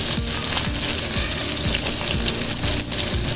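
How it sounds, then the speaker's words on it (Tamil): Sliced onions fry and sizzle steadily in a pan, a dense continuous crackle with soft stirring scrapes, close and loud. "வெங்காயம் நல்லா வதக்கி வச்சுக்கோங்க"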